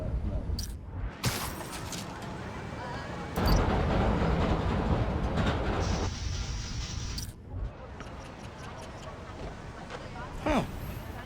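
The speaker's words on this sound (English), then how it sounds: "There's a subway line near here." Rumble of a passing subway train in the video game Spider-Man: Miles Morales, surging and fading in broad waves with a few high screeches, heard under spoken dialogue.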